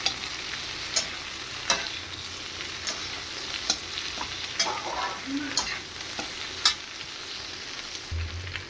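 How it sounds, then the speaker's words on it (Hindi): Okra frying in oil with onion in a pan, stirred briskly with a spoon: a steady sizzle under repeated scraping strokes and small knocks against the pan, close and fairly loud, with no talking. "अब 2 मिनट भिंडी को इसमें ऐसे भूनेंगे"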